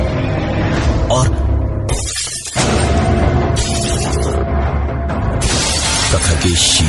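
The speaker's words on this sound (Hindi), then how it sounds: "शीशे को तोड़ते ही" Glass mirror struck with a stick and shattering, several loud bursts of breaking glass and crashes under a narrating voice.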